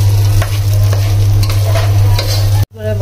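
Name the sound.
frying and stirring polao rice in a pot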